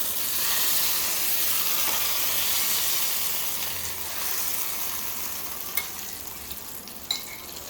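Tempering for tomato chutney sizzles in hot oil in a home kitchen, a steady close hiss and crackle that eases slightly over time, broken by a couple of sharp pops.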